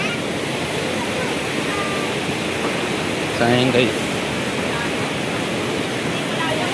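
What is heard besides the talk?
strong rushing river current near Wawa Dam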